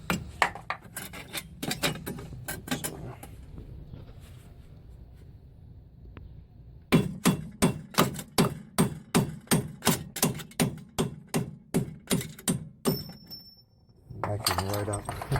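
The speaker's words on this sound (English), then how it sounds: "so I'm using a nail hammer." Repeated sharp metallic nail hammer strikes during rear strut replacement on a 1999 Oldsmobile Intrigue, a fast burst early, then a long run of evenly spaced loud blows close by, with brief pauses.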